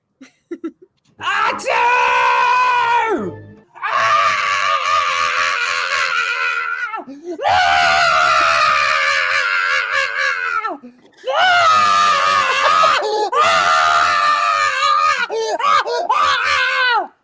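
A man screams in several long, loud, wailing bursts separated by brief pauses. His voice rises and falls in strained, moaning tones.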